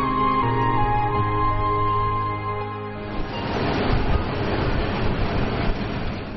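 Military train running on a railway across the Gobi desert: a sustained tonal horn-like drone for a few seconds, then a loud, rolling rumble and rattle of the passing train, with no voices.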